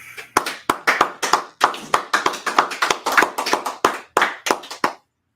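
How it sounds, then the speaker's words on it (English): A few people clap along in a steady rhythmic beat at a religious gathering of the Israelite School of Universal and Practical Knowledge, sharp close claps repeating for about five seconds before stopping. "let's clap it up"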